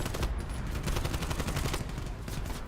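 Rapid, continuous bursts of gunfire and impacts from a video game artillery strike, dense and fairly faint, with no talk.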